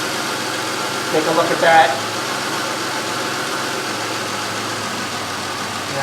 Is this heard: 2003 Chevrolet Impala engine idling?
yes